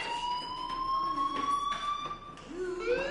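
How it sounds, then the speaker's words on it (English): An electronic fire alarm in the video game Life is Strange sounds as a steady high wailing tone with faint overtones, continuous and moderately loud over a few seconds. "Hey, do you hear that fire alarm?"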